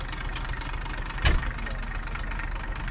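An old Massey Ferguson 135 Multi-Power tractor idles steadily outdoors at a vintage tractor run, a low, even engine chug with one brief louder knock, faint voices in the background.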